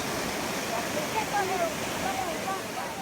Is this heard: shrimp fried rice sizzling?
no